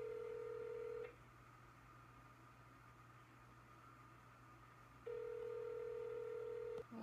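A telephone line ringing with no answer: two long steady rings heard through a handset, separated by a pause of about four seconds, faint and alone over a low electrical hum.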